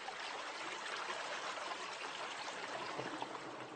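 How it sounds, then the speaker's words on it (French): A small river flowing through a valley, a faint, steady trickling babble with no voices over it. "C'est une petite rivière qui prend naissance dans cette vallée"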